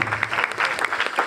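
An audience claps for teachers at a ceremony, a short spell of lively, slightly uneven applause from many hands, moderately loud and close.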